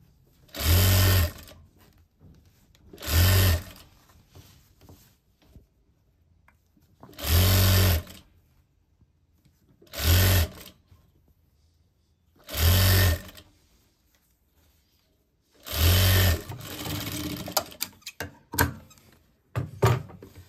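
A sewing machine stitches seams on a 12-panel palazzo, sounding in six short bursts of fast mechanical whirring separated by quiet pauses, the last burst trailing into softer rustling and handling.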